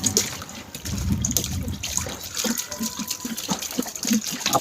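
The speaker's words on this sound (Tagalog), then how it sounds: "ilalagay na ang ating puro na ating suka" Pure vinegar pours in a steady gushing, splashing stream, filling a container for marinating milkfish. The liquid sounds close and fairly loud, with some sloshing and dribbling along the way.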